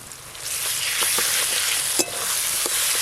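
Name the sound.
spice pastes sautéed with green mango in hot oil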